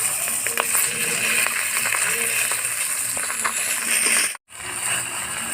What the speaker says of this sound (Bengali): মাছের মাথাটা ভালো করে লাল লাল করে ভেজে নিতে হবে